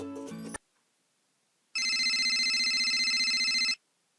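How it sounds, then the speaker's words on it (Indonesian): A telephone rings in a sustained electronic trill lasting about two seconds, bright and buzzy with a fast warble, following a short burst of another tone and a stretch of silence. "Kemudian contoh lagi, bunyi telepon yang berdering."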